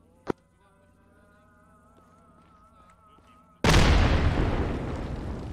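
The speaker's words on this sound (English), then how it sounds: "That's an explosion." A grenade blast in a video game: a sudden loud, broad explosion that rumbles and slowly decays, preceded by a short sharp pop and a quiet humming background.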